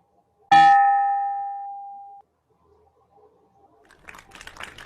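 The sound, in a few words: hand bell rung to close a condominium meeting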